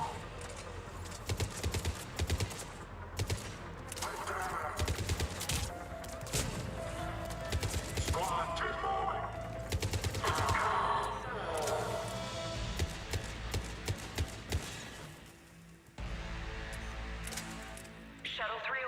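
Rapid bursts of gunfire from a mech in the Mass Effect video game, sharp repeated cracks over a dense battle mix with voices talking throughout.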